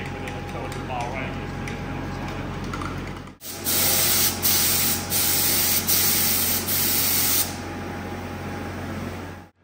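A spray gun applies paint to a Chieftain tank. Loud hissing bursts come one after another in the middle, following a stretch of background hum, and a voice is heard at times.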